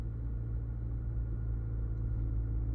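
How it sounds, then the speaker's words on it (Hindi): A stationary car's engine runs with the accelerator held lightly during driving practice, a steady low rumble with no clear rise in pitch and no voices. "अब आपको ये समझ में आ गया होगा कि कितना एक्सीलेटर दबाने से गाड़ी का इंजन कितनी स्पीड में घूम रहा है।"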